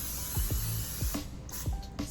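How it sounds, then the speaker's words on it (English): Cooking spray hisses from a can into a baking pan, a steady close spray with a few quick low thumps and knocks scattered through it. "spray your pan"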